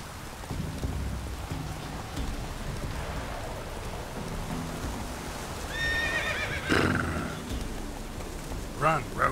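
Roach the horse whinnies in The Witcher 3 video game amid steady falling rain, with a sharp neigh midway and a shorter snort-like call near the end.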